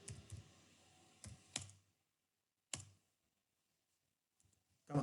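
Keys on a computer keyboard clatter in a few short bursts of quick clicks, close and quiet, separated by stretches of near silence.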